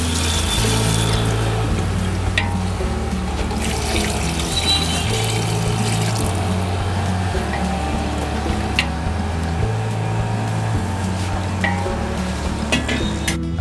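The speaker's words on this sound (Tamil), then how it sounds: "இப்போ வந்து தண்ணி ஊற்றி கொஞ்சம் கொதிக்க வைக்க போகிறேன்." Water pours and splashes steadily into a cooking pot for mutton biryani, a loud unbroken gush that runs the full length with no talking.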